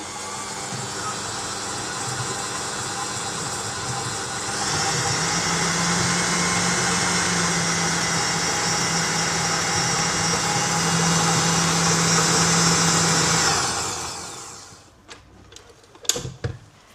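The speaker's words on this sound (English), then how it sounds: "it'd be better if I put the whisk on, wouldn't it, as well?" An electric hand mixer with whisk attachments beats lemon drizzle cupcake batter in a bowl, a loud continuous whirring drone that rises in pitch midway, then winds down and stops, followed by a few clunks.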